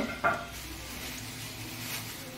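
Dry red chili and two bay leaves hit lightly heated mustard oil in a kadai, a short splash followed by a steady, soft sizzle with no talking.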